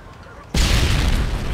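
A frag grenade explosion in the video game Modern Warfare 2, a sudden loud boom that cuts in sharply after a quiet moment and rumbles on heavily to the end.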